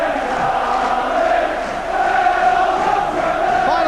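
Liverpool fans at Villa Park during a 1988 FA Cup match against Aston Villa make a loud, sustained crowd roar with chant-like tones. The sound is distant and fills the stadium, with no commentary heard.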